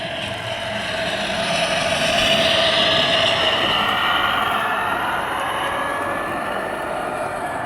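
A G scale model locomotive runs outdoors on a garden railway track, giving a steady whirring rumble that holds at a fairly even level throughout, with no talking.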